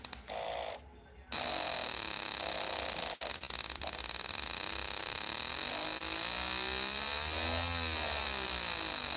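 Yamaha TZM motorcycle engine revving steadily after its exhaust servo is recalibrated, a continuous sustained engine drone that runs loud and close through most of the stretch, after a brief quieter start.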